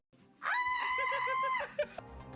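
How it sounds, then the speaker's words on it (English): A woman lets out one sustained, high-pitched scream of excitement lasting over a second, loud and close, followed by a short breathy trailing sound. "I'm just gonna scream."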